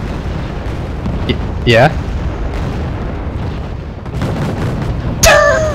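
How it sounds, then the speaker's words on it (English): Cluster bomb explosions in the Wargame: Red Dragon video game rumble loudly beneath ongoing game noise, with a sharp sweeping burst near the middle and another near the end, while people talk over the battle. "Oh my god, cluster bombs are so good."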